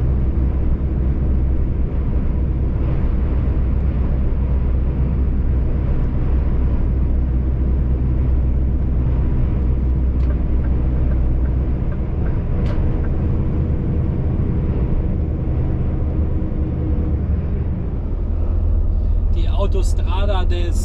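Heavy truck cruising on an Italian motorway toward Milano, a constant loud low engine drone and road rumble from inside the cab, steady throughout, with a faint rattle near the end.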